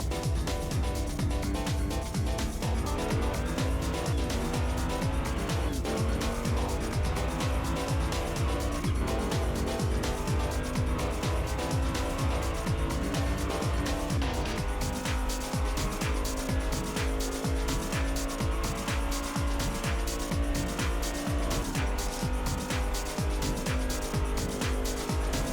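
Hot Wheels die-cast toy cars, an Audi and an Acura NSX, race down a track. A dense, continuous rattle and clatter runs loud over a rapid rhythmic pulse, with music-like tones layered underneath.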